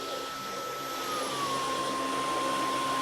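A Dyson V11 Absolute Pro cordless vacuum cleaner runs steadily on carpet, a loud continuous whine with a sustained high tone that shifts pitch slightly partway through as the motor adjusts.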